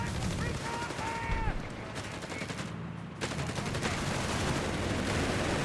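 Machine gun fire and battle noise from Company of Heroes 3 as a building crumbles, with rapid bursts over a steady din and a voice talking in the background.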